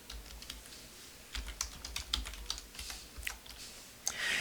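Quick, irregular keystrokes on a computer keyboard while entering data, with light clicks and a few louder taps, close and clear with no talking.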